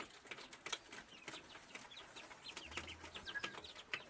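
Chickens being fed in the evening on a rural farm cluck and chatter softly at a distance, with scattered short calls over a faint outdoor background.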